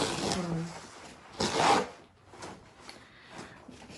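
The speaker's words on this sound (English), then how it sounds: "If y'all hear this, I'm opening up my paper towels." Close, crinkly rustling and tearing of the plastic packaging on a roll of paper towels in a few short bursts, with quiet pauses between.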